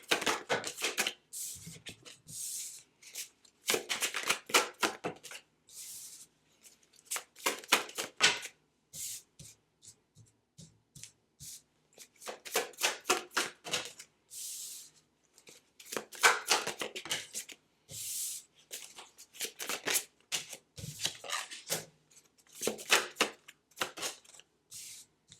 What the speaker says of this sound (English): Let me just pull some cards and see.